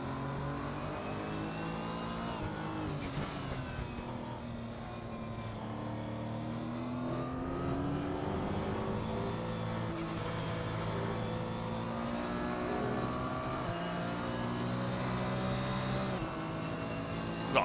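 A race car engine in iRacing and Assetto Corsa sim racing under gentle throttle holds a steady, rich drone whose pitch swells and eases smoothly, staying close and continuous without any talk.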